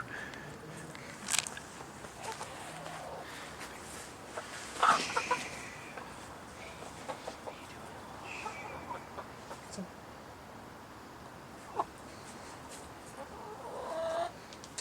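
Orpington chickens cluck on and off around a backyard city coop, with soft scattered calls and small bursts of movement close by.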